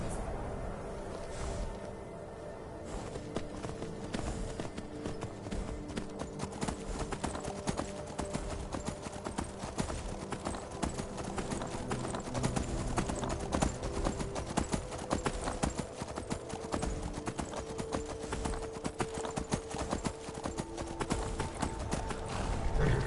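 Horse hooves clip-clop steadily in Skyrim on PS4, a continuous rhythmic trot under dense game sound and occasional voices.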